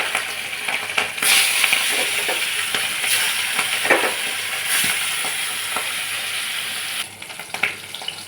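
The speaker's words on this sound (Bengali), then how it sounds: "হালকা করে মাছটা ভাজবো।" Hilsa fish fries in hot oil with a loud, continuous sizzle, broken by occasional sharper crackles and a brief clatter as the pieces are moved in the pan.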